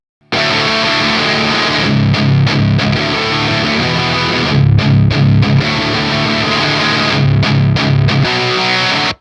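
Electric guitar played through a Soldano SLO amp simulation on the overdrive channel with the bright switch engaged, giving a saturated, distorted tone; loud chugging riffs with rhythmic stops, several short bursts over about nine seconds, no voices.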